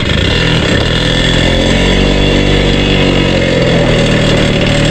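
A motorcycle engine runs close and very loud in a steady, even idle throughout, with a low throbbing rumble and no noticeable revving or talking.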